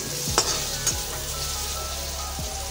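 Pointed gourd (potol) sizzling steadily in a hot frying pan for a vegetarian home meal, with a few soft stirring scrapes against the pan and no talk.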